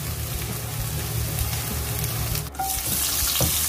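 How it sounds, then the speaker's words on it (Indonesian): Shallots and spices sautéing in a pan for tempeh orek give a steady, close sizzle with soft stirring scrapes, broken by a brief dip near the end. "Kita tumis ya bawangnya"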